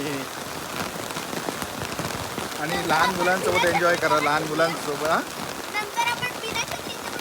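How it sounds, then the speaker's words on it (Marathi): Heavy monsoon rain falling steadily outdoors, a dense loud patter heard throughout while a person talks over it. "पाऊस बघा किती पडतोय."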